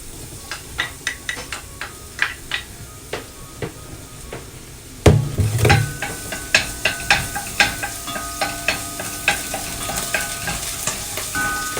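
Chopped garlic dropped into hot oil in a pan, with a sudden louder sizzle burst midway over a series of sharp clinks and stirring taps that recur at an irregular rhythm.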